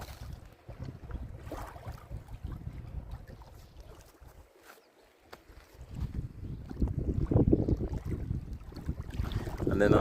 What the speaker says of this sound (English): Hear the water lap against the shoreline.